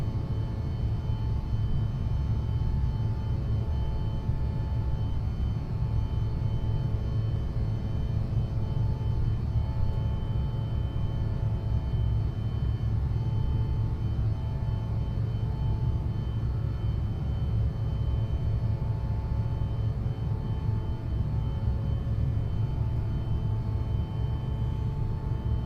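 Aerosoft CRJ V2 regional jet engines in Microsoft Flight Simulator on a SkyWest flight from Los Angeles to Phoenix give a steady, loud, low droning hum with tonal whine layered on top, continuous and unbroken throughout.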